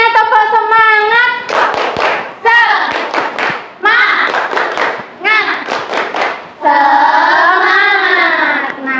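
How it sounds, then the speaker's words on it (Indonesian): Children in a classroom do a rhythmic spirit-clapping routine, bursts of loud patterned claps in time alternating with sung or chanted voices from the group, all close and energetic. "Semuanya tepuk semangat."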